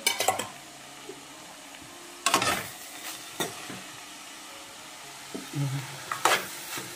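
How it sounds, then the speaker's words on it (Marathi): Fresh grated coconut stirred into wild vegetables in a wok over a village stove, with intermittent scraping and clattering of the spoon against the pan over a faint sizzle. "त्यात सगळ्यात शेवटी आता हे ओलं खोबरं जे आहे ते मी घालते आणि मिक्स करून घ्यायचं"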